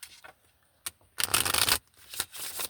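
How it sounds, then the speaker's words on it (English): Playing cards being shuffled, a soft tap and riffle followed by a loud burst of fluttering cards and a couple more short riffles, close and alone. "Let's shuffle a couple times."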